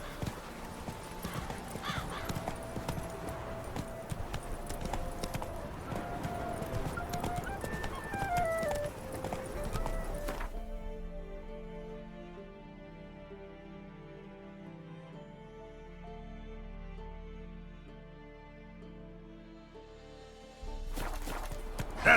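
Roach, the horse in The Witcher 3: Wild Hunt, gallops with rapid, loud clip-clopping hooves for about ten seconds, then the hoofbeats stop and a sustained tonal drone takes over.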